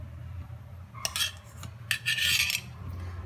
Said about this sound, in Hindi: अब इसमें हम आधा चम्मच गाय का देसी घी डालेंगे